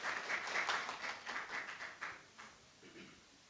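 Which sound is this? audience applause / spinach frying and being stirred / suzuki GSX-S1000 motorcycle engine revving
audience applause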